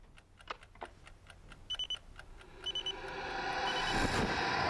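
An alarm clock going off in a quiet bedroom beside a sleeping man: faint ticking first, then repeated short electronic beeps in bursts, building into a louder, sustained ring toward the end.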